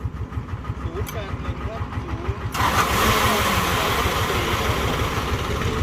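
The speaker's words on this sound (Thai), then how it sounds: "คือเครื่องยนต์สูบเดียวนะครับ และเครื่องใหม่แกะกล่องนะครับ" A brand-new single-cylinder engine on a 10-ton dump truck putters at a steady idle, then roars louder as it catches and runs on, close to the microphone, with someone talking over it.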